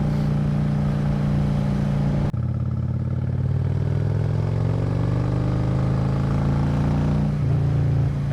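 A Honda Shadow 750 motorcycle engine runs loud and close for the whole stretch, with a steady low V-twin rumble. The pitch climbs slowly as the bike accelerates while riding, and there is a short break in the sound near the start.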